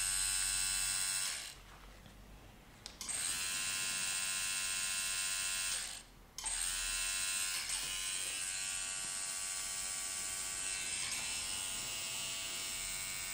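A tattoo machine buzzes with a steady, close electric whine while blocking in black ink on a realistic skull design, running in long stretches broken by two brief pauses.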